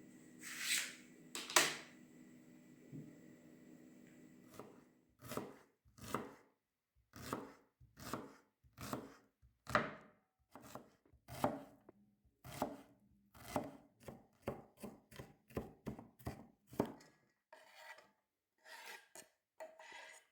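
A knife chops an onion into cubes steadily on a cutting board, a quick run of crisp, close strikes with brief pauses, no talking.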